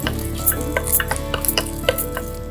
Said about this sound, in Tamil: ஒரு 5-6 அரிசி திப்பிலி, ஒரு 10 மிளகு, இவை இரண்டையும் நம்ம லேசாக வறுத்துடலாம்.